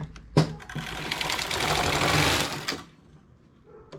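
Knitting machine carriage pushed across the needle bed while knitting a ribbed glove with fingers, a click followed by a rough sliding rattle for about two seconds, close, ending in a soft knock.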